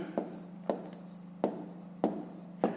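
A pen or pencil writing numbers down for a fifth-grade maths exercise makes five short, evenly spaced scratchy strokes close up, with a low steady hum underneath.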